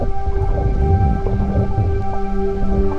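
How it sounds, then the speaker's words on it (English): Rain shower at a water park heard from underwater: a steady, muffled wash of falling water with low rumbling and faint tonal hums, continuous and fairly loud throughout. "This is actually what they call a rain shower."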